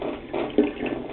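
Tap water runs softly while a felt ball is rinsed and rolled by hand, a faint steady trickle with one brief splash in the middle.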